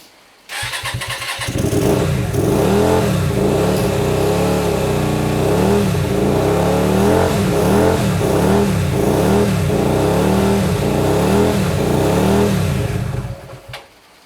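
A Hyosung GT125RC motorcycle, unstarted for two years and with freshly ultrasonic-cleaned carburettors and an unset idle, fires up and runs loud and close for about thirteen seconds with repeated uneven revs before cutting off.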